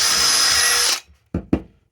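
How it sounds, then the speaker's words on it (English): A power drill whines loudly for about a second as it bores through scrap plasterboard, then stops, followed by two short knocking clunks. "it will drill through my scrap piece of plasterboard"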